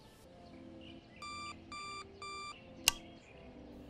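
A phone alarm beeps in three evenly spaced bursts of stacked electronic tones, each lasting about a quarter second, over a quiet room hum, with a sharp click near the end.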